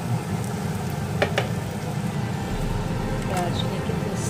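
Vegetable oil and ghee with whole spices such as cardamom sizzle in a pan, a steady moderate frying hiss with a couple of brief clinks, someone talking over it.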